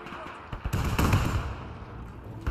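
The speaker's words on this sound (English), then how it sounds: "Let's see if we can hit that with the mortars." Artillery-style mortar fire in the World War II strategy game Men of War 2: a few sharp thumping reports with booming tails, mid-distance, amid low battle ambience.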